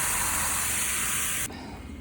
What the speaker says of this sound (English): I'm gonna just fill up this bucket with water to kind of weigh it down.